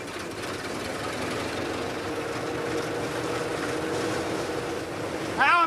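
A classic American truck engine pulls steadily under throttle, a continuous broad mechanical roar with knocking texture that holds level, then briefly swells louder at the very end.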